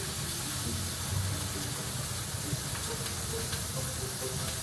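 A grilled cheese sandwich sizzles in butter in a pan inside a hot tent, giving a steady, fairly loud hiss and crackle with no pauses and nobody talking.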